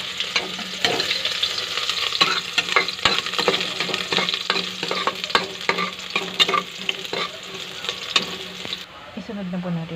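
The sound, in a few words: garlic sautéing in oil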